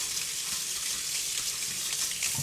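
Chickpeas rinsed under running tap water in a kitchen, giving a steady, close hiss and splash of flowing water with no pauses over a couple of seconds.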